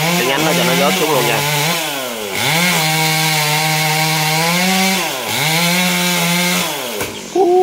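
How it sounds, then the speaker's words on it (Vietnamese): A chainsaw cuts a star apple tree branch, loud and close, its engine revving up and bogging down through repeated cutting passes, with a final rev at the end and no talking. "Rồi bắt đầu là anh cưa cái nhánh nó luôn các bạn."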